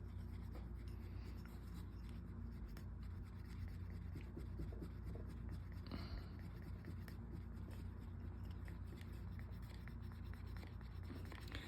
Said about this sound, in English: Take your burnishing tool or a piece of canvas cloth, something like that, and then just start burnishing.